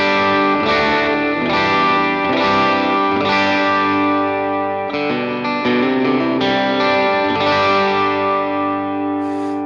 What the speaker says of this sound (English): my vintage doodle, my vintage delay, and then my reverb